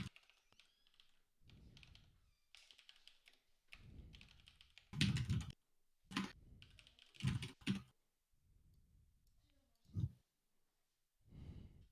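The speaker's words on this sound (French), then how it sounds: "Arrête d'écrire avec ton clavier fort comme ça" Loud typing on a computer keyboard during an online game session, bursts of close clattering keystrokes separated by pauses, with breathing and sighs between them.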